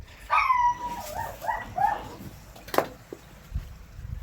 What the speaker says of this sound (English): Is she fucking barking at me?